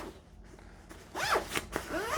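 The zipper on the side of a PGYTECH OneGo rope strap bag is unzipped in a few quick, raspy pulls, close and clear, with short pauses between them.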